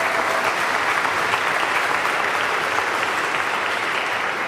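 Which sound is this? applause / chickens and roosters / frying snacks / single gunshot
applause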